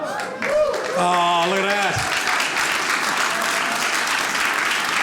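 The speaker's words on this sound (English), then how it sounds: "You say 39 years, and then people applaud." Stand-up comedy audience bursting into applause after a brief remark from the comic; the clapping swells quickly and stays loud and dense, with some whoops over it.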